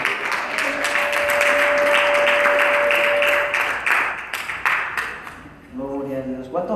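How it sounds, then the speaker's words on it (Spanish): Congregation at a church service applauds loudly and steadily for several seconds, with a sustained tone and voices mixed in, before the clapping fades and speech takes over. "Vamos a darle fuerte aplauso al Señor."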